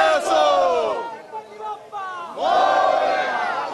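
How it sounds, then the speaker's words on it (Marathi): A crowd at a Ganesh procession shouts Ganpati Bappa slogans in two loud bursts of chanting, separated by a short quieter pause with scattered voices. "गणपती बाप्पा की जय, मंगलमूर्ती जय असा जयघोष या ठिकाणी आपल्याला पाहायला मिळतोय"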